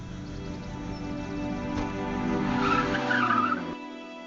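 A car drifting in the zombie survival game State of Survival, a sustained tire squeal and skid over a steady engine drone that cuts off near the end.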